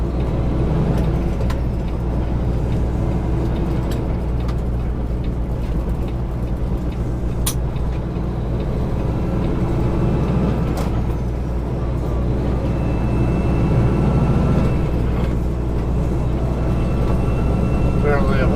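Vehicle merging onto the freeway gives a continuous low engine and road drone with steady tire roar, a couple of short sharp clicks along the way.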